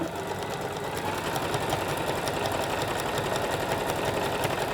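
Steady, rapid mechanical whirring of a sewing machine zigzag stitching along a fabric edge at close range, a fast even clatter with no pauses.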